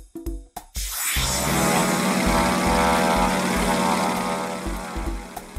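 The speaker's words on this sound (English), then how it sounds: "The airplane." A propeller airplane drones loudly and steadily through most of the clip after a few short bursts at the start, as a sound effect in a children's English-learning video.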